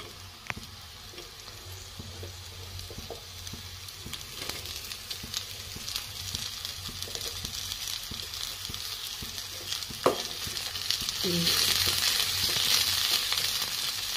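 Pumpkin flowers and potatoes frying in a pan, a close, steady sizzle with occasional scrapes and stirring knocks, growing louder and hissier toward the end.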